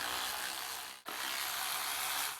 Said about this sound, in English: Now we can pull off our perimeter bolts